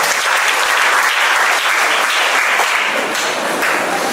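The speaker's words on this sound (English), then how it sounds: "Please clap for yourself." An audience at a talk on normalizing menstruation claps for itself, producing a dense, loud, steady wash of applause that holds without a break for several seconds, with no speech on top.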